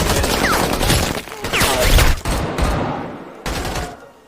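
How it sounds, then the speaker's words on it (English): Gunfire rings out in an action movie shootout between a cartel gang and a special forces team: several loud, sharp shots and bursts crack close together, mixed with clattering impacts and effects, then a final blast after a brief pause. "Without hesitation, Pollo fired a shot."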